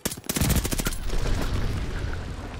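Rapid automatic bursts from a STEN SMG in a shooter game, loud and close, a dense rattle in the opening second trailing into a ringing, crackling wash of noise.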